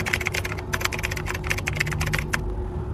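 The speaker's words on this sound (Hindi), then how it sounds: "सिक्योरिटी पिन जो आपको यहाँ पर इमेज में दिख रहा है वो सेम एज इट इज़ यहाँ पर टाइप करें" Rapid clicking keystrokes on a computer keyboard as a security PIN is entered on an online MAH CET entrance exam registration form, a steady run of close, crisp taps with a short pause near the end.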